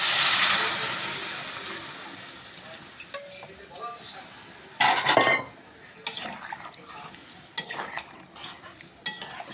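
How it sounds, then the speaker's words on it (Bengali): Water poured onto fried papaya in a cooking pot with a little oil sets off a loud hissing sizzle that fades, followed by scattered spoon scrapes and metallic clinks. "এখন আমি এখানে পরিমাণ মতো জল দিয়ে দিচ্ছি"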